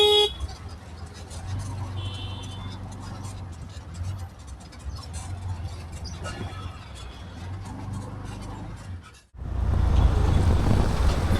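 A car creeps slowly along a badly broken stretch of the Bhiwandi–Wada road in a low, rumbling drone with uneven bumps and rattles, ending in a burst of loud wind buffeting the microphone.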